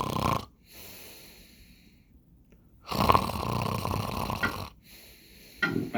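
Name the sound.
person imitating snoring sounds during sleep study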